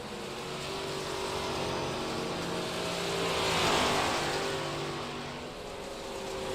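Steady engine roar from several racing cars in a video game, a continuous droning hum that swells slightly as they pass, with no talking.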